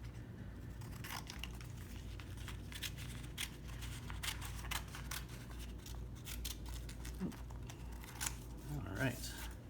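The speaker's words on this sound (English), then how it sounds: "come back now with my scissors and cut the paper" Scissors snipping through paper while making a galaxy art piece, a steady run of close, crisp cutting sounds with soft rustling of the sheet, continuing under light background noise.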